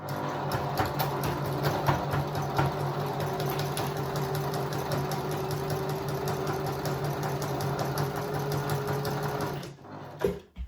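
A sewing machine stitches binding onto a quilt in one long, steady, close whirring run that stops near the end.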